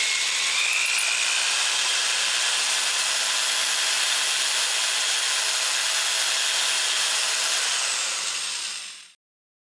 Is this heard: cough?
no